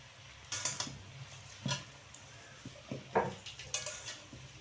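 Taro greens go into a pot on a home stove, giving scattered soft rustles, light clinks and a faint sizzle at irregular moments, quiet and close, with no talking.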